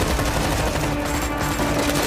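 Rapid bursts of gunfire from an action movie, dense and loud, shots running together for about two seconds with no speech.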